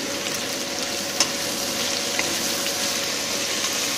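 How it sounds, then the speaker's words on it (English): Chinese broccoli stir-fries in a wok over medium heat, giving a steady, even hiss and sizzle with a couple of small clinks, close and continuous with no talking. "Now, just want to give it a quick stir fry. We've got this on a medium heat."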